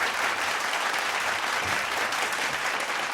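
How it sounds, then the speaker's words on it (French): Audience applause at the grand finale of a fashion show, a steady, dense wash of clapping from a large crowd that holds at an even level throughout. "sous les applaudissements de ce magnifique public"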